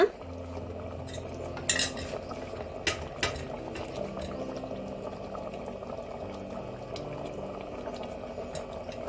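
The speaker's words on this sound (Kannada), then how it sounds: "ಈಗ ಇದು ಕುದೀತಾ ಇದೆ" A pot of brinjal rice bubbling on the stove, a steady low boil with metal utensils clinking and scraping against the pan now and then, close and moderately loud, no talking.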